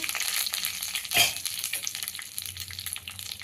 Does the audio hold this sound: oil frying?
yes